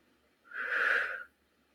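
A single slow, deep inhalation drawn during a seated yoga breathing exercise, rising and fading over about a second, close and fairly soft with no talk.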